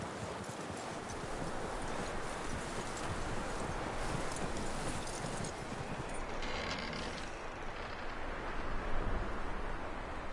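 Horse hooves clip-clop steadily in Red Dead Redemption 2, an even rhythm of hoofbeats that carries on throughout, with faint mechanical rattles underneath.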